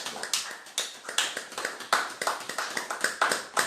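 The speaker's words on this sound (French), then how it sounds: "On acclame." A congregation clapping together during a midday Wednesday prayer service, quick irregular handclaps that overlap into steady nearby applause with no talking.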